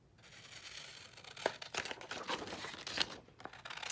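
Quiet, close paper noise with a few sharp scissor snips and crinkles against a soft hiss, no one speaking.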